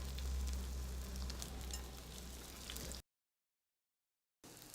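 Salmon patties fry in a pan with a dense, close sizzle that cuts out briefly into silence before the crackle returns.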